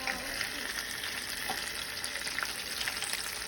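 A folded taco fries in hot oil with a steady, bubbly, crackling sizzle that runs continuously up close, with small pops scattered through it.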